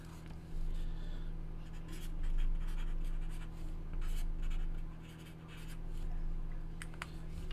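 A pen writes on paper while football trading cards are logged, making soft, steady scratching strokes close by with no talking over a constant low background hum.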